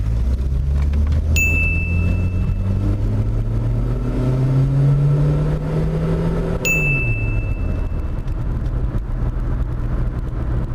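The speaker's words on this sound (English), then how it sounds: "We'll take it for a test and we'll see if the car is running any better or a little faster." A Volvo 240 engine runs and revs on a test drive, a loud steady drone rising in pitch through the gears then dropping, with two brief bright chimes along the way and no talk.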